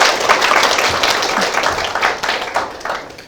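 An audience applauds at a Gyeonggi Province integrated care leadership training session, a dense burst of clapping from many hands, loud and close, tapering off over a few seconds.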